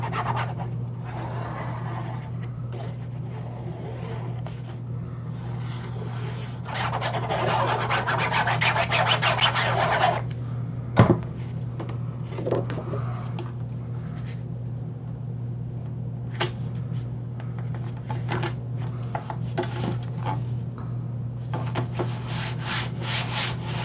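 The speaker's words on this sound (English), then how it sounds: "burnish that, just make sure it's good and stuck" Paper piece being burnished onto a base for a photo folder craft project, soft repeated rubbing and scraping strokes over a steady low hum, close and fairly quiet, with no talking.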